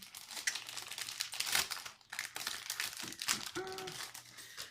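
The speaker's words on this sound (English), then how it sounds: "I apologise for the rustling. I should have really got it out of its packet already." A plastic packet holding a magazine freebie is torn open and crumpled up close, giving bursts of crinkling and tearing with brief pauses between them.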